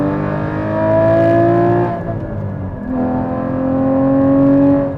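A Porsche GT4 sports car engine revs with auto rev matching, giving a loud, close, smooth rising and falling drone in two swells with a brief dip between, and no talk.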